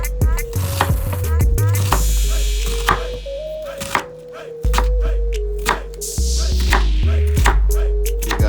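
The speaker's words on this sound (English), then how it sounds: "We're gonna go ahead and cut up a pop chaw just like our cabbage." A knife chops bok choy on a cutting board in a run of close, sharp thunks, irregularly spaced with short pauses between bursts, over a steady low hum and no talking.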